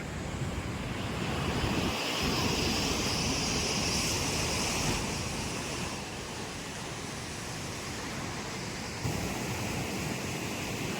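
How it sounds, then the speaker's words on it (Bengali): A steady wash of sea waves breaking and hissing nearby at Puri beach, with a brief low thump of wind near the start and a constant airy roar. "তোমরা যাতে ফিল করতে পারো সমুদ্রের জলের আওয়াজ"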